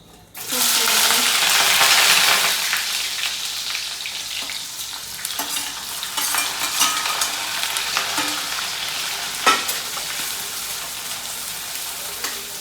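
Chopped chilli and onion go into a pan with cinnamon and cloves over a low flame, a loud sizzle at first that settles into steady frying with light stirring scrapes and clinks.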